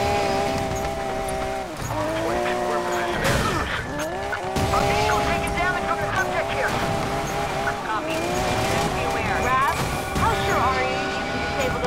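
A Lamborghini Aventador in the game Need for Speed Payback tears off-road with a steady engine roar, rising and falling revs, tire squeals and skids, joined by occasional bumps and crashes and running beneath game dialogue.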